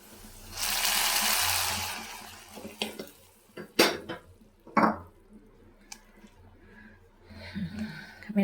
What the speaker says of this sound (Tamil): இப்போ எடுத்து நம்ம சாம்பாரில் ஊற்றிக்கலாம்